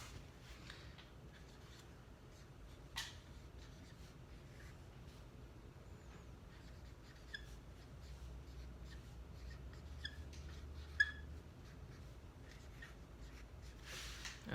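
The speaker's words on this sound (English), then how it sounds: "And I am going to write a statement down, and you have to decide if it's true or false." A statement is written on a classroom board, with faint, scratchy marker strokes and occasional small taps spread across a long, quiet stretch without talk.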